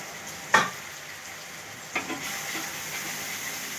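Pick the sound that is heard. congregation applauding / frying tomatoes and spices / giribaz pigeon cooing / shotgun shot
frying tomatoes and spices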